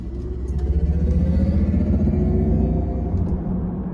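A Mercedes-Benz EQE 350+ electric sedan pulls hard in sport mode, its steady low rumble and rising whir continuous and loud from start to finish with no talk.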